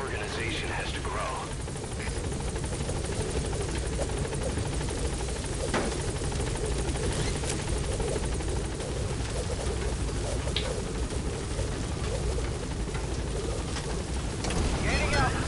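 A helicopter in a PS4 video game drones steadily as it gains altitude, a continuous rotor rumble with faint bird-like coos and scattered background sounds mixed in throughout.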